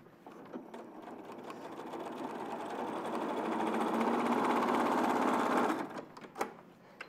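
A sewing machine understitching fabric runs in one steady, fast whirring stretch that builds and holds for several seconds before stopping, followed by a few light clicks.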